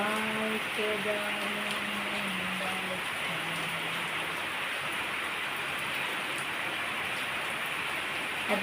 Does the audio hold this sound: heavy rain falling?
yes